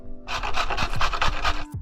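Rapid rhythmic rasping strokes of a carrot being grated on a grater, loud and close, running continuously for over a second before stopping.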